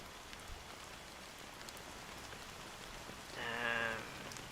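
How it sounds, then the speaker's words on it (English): Steady rain pours down in Honkai Star Rail, a soft, even hiss throughout, with a brief tonal chime rising over it near the end. "how long has this rain been going on for?"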